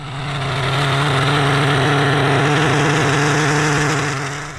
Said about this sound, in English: I'll show you a little clip of it having to run, and the throttle has to stay wide open.